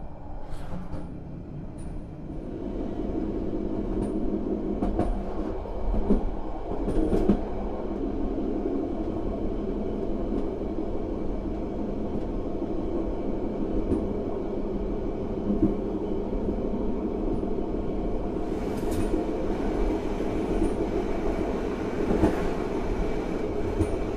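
The KA Ijen Ekspres passenger train departs, a steady loud rumble of wheels and carriages heard from on board, with faint rhythmic rail clicks and occasional high squeals, continuous for the whole stretch.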